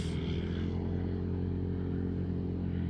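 A motorcycle engine with an aftermarket 54N exhaust runs with a deep, steady, throaty rumble, held at a constant pitch throughout without clear rises.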